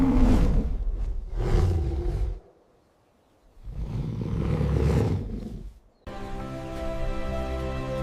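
A bear roars in two long, loud growling bursts separated by a short silence, followed by a different steady harmonic tone.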